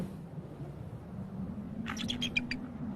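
A snow-covered bird in harsh, snowy conditions gives a burst of high, rapid screaming calls toward its mate, starting midway through over a steady low wind rumble.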